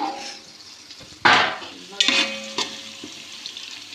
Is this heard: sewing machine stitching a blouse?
no